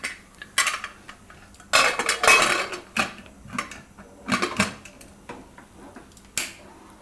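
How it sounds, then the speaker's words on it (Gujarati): A pressure cooker lid is put on and closed in a home kitchen. Several sharp metallic clacks and scrapes come in bursts with short pauses between them, close and fairly loud. "હવે આપણે એને ઢાંકણું બંધ કરી દઈશું કુકરનું."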